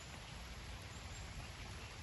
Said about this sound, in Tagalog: kahit na ulan, naambon, tuloy lang kami.